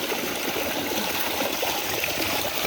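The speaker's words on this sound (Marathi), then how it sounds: "हे बघ, पाणी कसं चाललंय चंबर." Stream water runs steadily over old stones at a village washing spot, a constant close rushing and trickling with no voices.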